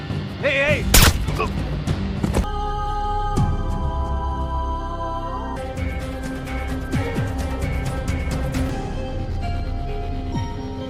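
A sniper rifle fires in a Prison Break film scene, one sharp loud blast near the start followed by further cracks amid dramatic music and brief shouting.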